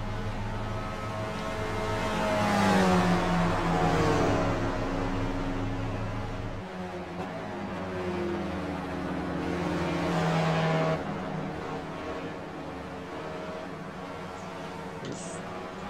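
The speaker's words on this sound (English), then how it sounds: "Feathering the throttle a little to try and keep the speed as high as we can." Race car engine droning on a circuit during a racing lap with the throttle feathered, a steady near drone rising and falling in pitch as it accelerates and eases off through corners, heard alone without talk.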